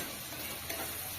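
Pumpkin and eggplant fry in a pan in a village kitchen, a steady broadband sizzle holding even and close throughout, with a faint stir or clink near the middle and no voices.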